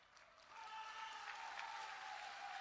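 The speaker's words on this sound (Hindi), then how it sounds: "ये देखो महिलाएं ताली बजा रही हैं।" Women at a political election rally in Jharkhand clap together in a dense, steady patter that swells after a quiet start and stays even; distant and fairly faint, with no voices above it.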